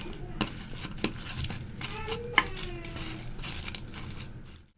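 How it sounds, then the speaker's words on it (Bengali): Hands mix and knead wheat flour dough with salt and coriander leaves, giving soft squishing and crinkling sounds with occasional sharper taps, close and fairly quiet under a faint voice. "স্বাদ মতো লবণ সুন্দর করে মেখে নেবো"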